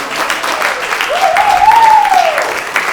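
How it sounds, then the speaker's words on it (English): Audience at a stand-up comedy show applauds steadily for about three seconds, dense clapping that swells slightly mid-stretch, with a brief vocal whoop rising over it. "Clap it up for yourselves."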